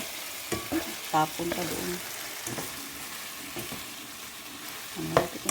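Chicken afritada being stirred in a frying pan, with scraping spoon strokes and a soft sizzle running through, a brief spoken line over the cooking noise.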